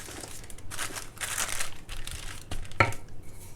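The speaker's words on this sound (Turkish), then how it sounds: "yağlı kağıdımızı tekrardan şöyle tezgahın üstüne serelim" Sheet of baking paper crinkled and spread flat on a kitchen counter while making an apple tart, soft rustling and crumpling with a sharper crackle near the end, close and fairly quiet.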